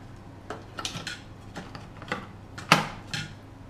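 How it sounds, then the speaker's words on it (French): Plastic lid and measuring cup clicked into place on a food processor jar holding shelled almonds, a series of short sharp knocks and rattles spread irregularly, with one louder snap toward the end. "on insère le couvercle et le gobelet doseur"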